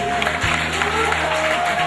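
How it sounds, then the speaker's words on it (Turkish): An audience applauds at a Turkish charity event for disabled people, continuous clapping under a steady hum and tones, with some background voices mixed in. "alkışlarla alıyoruz"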